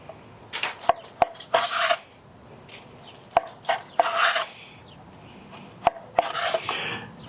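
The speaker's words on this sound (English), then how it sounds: "we're going to go ahead and slice into these" Knife cutting through smoked pork steaks cooked on an Old Smokey grill, rested and doused in their juices, with sharp, close chopping knocks on a board at irregular intervals and scraping between them.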